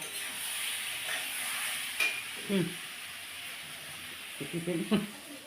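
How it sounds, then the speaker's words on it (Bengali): Eggplant slices fry in a pan with a continuous hissing sizzle, broken by a few soft stirring knocks and brief murmurs. "হয়ে গেছে বেগুন ভাজাটা এখন নামিয়ে নিই"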